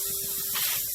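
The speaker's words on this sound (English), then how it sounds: "Spray it onto the product directly as well." Cooking oil spray hisses from a can onto nuggets in a pan, one steady close spray lasting about a second, with a faint hum beneath.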